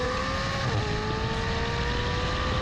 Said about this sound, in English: You can tell immediately from the noise of the engine